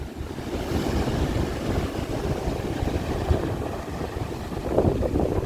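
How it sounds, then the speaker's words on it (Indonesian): Strong wind buffets the microphone outdoors as a loud, continuous low rumble that swells and gusts throughout, with no voices over it. "Seketika anginnya tambah besar ini Mas."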